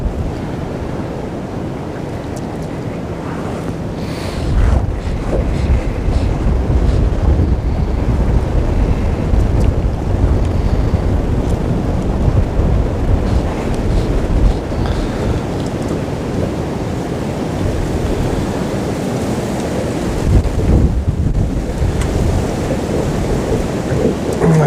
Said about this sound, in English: that wind is blowing so hard today